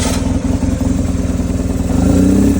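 A 1999 BMW R1100S motorcycle engine, started in neutral, runs loud and close with a steady, rhythmic boxer-twin thrum that builds slightly toward the end.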